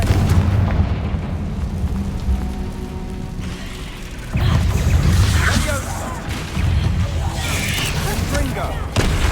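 Fiery blasting spells cast repeatedly in the Hogwarts Legacy video game, heard as loud booming bursts over a dense, rumbling game soundscape with voices speaking in the background.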